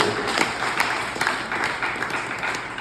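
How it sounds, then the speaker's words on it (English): Audience at an open mic comedy show breaking into steady applause and scattered clapping for a few seconds, fairly close and with no talk over it. "Let me get a round of applause for Netflix being trash."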